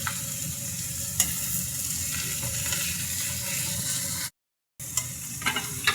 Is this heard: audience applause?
no